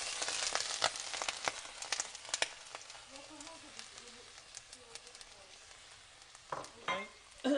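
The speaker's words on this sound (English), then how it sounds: "I'm going to put these onions in now" Onions fry in a hot pan with a steady crackling sizzle and scattered pops, under occasional speech and some soft cooing sounds in the background.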